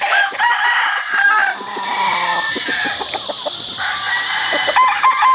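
Sweater gamefowl roosters on a breeding farm crow repeatedly and cluck, several birds close by and loud with overlapping calls throughout, no talk.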